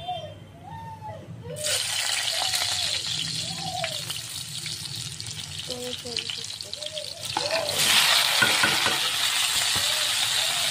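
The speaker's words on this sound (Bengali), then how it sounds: "এখন ভেন্ডি ভাজি করব। তেল গরম দিয়ে দিলাম," Okra frying in hot oil: a steady sizzle bursts in after a quiet opening and grows louder near the end, while a voice keeps talking over it.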